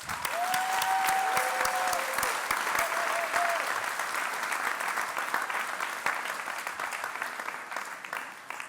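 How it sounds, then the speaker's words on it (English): Sustained round of applause from a gala audience, steady and dense from start to finish, with a faint voice briefly heard in the first few seconds. "Let's give everyone a round of applause."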